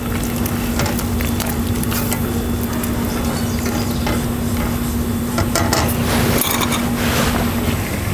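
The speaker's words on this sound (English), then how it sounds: "And then we stir it a bit." Smoked tomato risotto is stirred in a pan over a steady, loud background hum. Soft scraping and sizzling textures run throughout, close up, with no speech.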